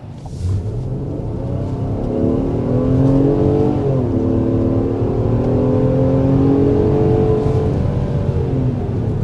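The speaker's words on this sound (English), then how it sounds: "let's go ahead and start with a hard acceleration" A 2025 Nissan Pathfinder Platinum V6 engine revs hard to 60 mph, climbing steadily in pitch through several gear changes, loud and close, with a low rumbling undertone throughout.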